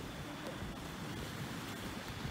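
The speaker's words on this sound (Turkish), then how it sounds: "Çok rüzgar var. Aşırı rüzgar var." Strong wind blows by the sea, a continuous rushing roar buffeting the microphone, with low rumbling gusts and no clear voices.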